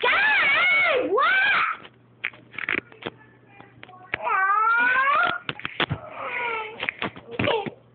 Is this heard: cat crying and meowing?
yes